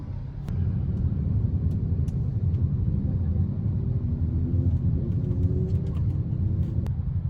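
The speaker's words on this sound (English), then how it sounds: "Thailand traffic jam." Road traffic rumbles steadily through a Bangkok, Thailand traffic jam, a low continuous drone of idling and creeping car engines heard from inside a vehicle, with a few faint clicks and a soft tonal hum partway through.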